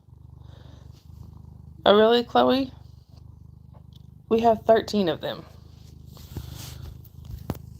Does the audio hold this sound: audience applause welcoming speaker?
no